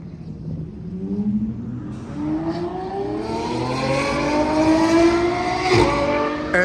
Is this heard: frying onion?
no